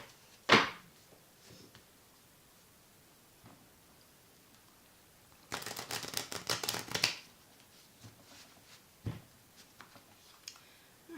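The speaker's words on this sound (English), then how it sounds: "here I am just doing standard shuffle" A deck of tarot cards riffles in a rapid fluttering burst, close and crisp, with a few isolated taps and card snaps before and after.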